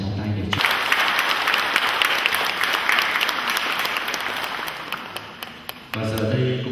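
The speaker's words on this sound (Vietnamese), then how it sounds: "Cộng đoàn chúng ta cùng đồng một tràng pháo tay để chúc" Sustained applause from a church congregation for a newly married couple during a wedding mass, steady dense clapping filling the room for several seconds, with a speaking voice briefly before and after.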